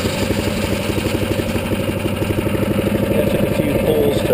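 A Predator 212cc 6.5HP engine runs on a Harbor Freight 62323 chipper shredder, giving a steady, loud, close-up throb with a fast regular pulse and no talking.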